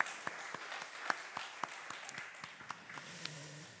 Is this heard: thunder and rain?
no